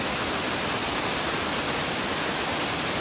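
Steady, dense broadband rush of water falling at Hatchet Creek Falls in Shasta National Forest, loud and continuous with no breaks or voices.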